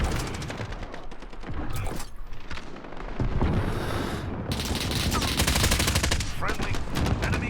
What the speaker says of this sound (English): I don't know who or what's shooting at me